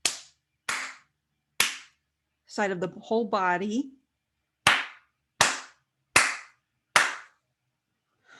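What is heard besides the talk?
hand clapping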